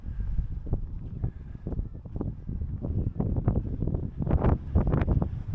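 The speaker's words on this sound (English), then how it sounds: "Bit windy." Gusty wind buffets an outdoor microphone near a rugby league stadium in Wakefield, a continuous low rumbling roar with irregular louder blasts building toward the end, no speech.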